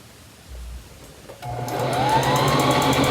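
After a quiet start with a soft thump, a sewing machine starts up and stitches a top with a steady rising hum and rapid needle clatter, close and uninterrupted by talk.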